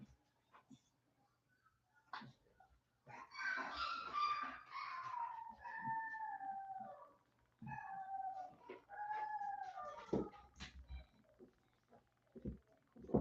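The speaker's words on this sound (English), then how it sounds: "Now these puppies aren't as old as the other ones." Young puppies about five weeks old whine, whimper and give small yips in a run of thin, high, wavering cries. The sounds are close and moderately quiet, with soft handling noises around them.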